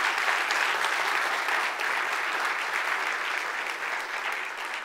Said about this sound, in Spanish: Si van a aplaudir, aplaudan al Señor.